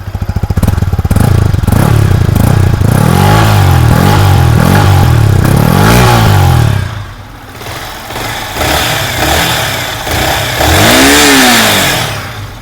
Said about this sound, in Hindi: थोड़ा थ्रोटल दे के सुनवाता हूँ।